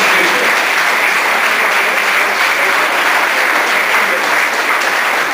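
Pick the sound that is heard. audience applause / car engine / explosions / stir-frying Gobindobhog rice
audience applause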